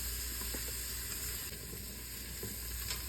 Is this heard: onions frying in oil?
yes